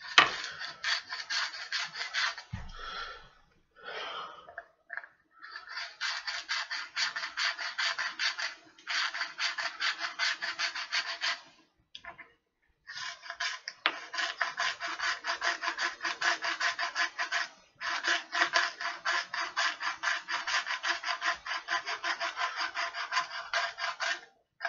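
Hand reaming of the cut end of a tube while building a water-cooling loop in a Define S PC case, heard as repeated bursts of bright rasping scrapes, close up, with short pauses between strokes.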